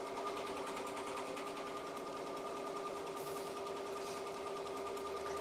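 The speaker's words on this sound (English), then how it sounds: "Now it's starting the satin stitch." A Ricoma embroidery machine sewing a satin stitch on a sweater hoop runs with a steady, fast mechanical whir and rapid needle chatter, continuous and moderately quiet with no speech over it.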